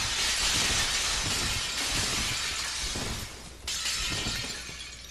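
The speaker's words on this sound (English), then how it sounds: "And break some glass while we're at it." Glass breaks loudly in the video game Dark Souls 3, a sustained crashing shatter that runs through the clip, briefly dips and then surges again with a second burst of breakage.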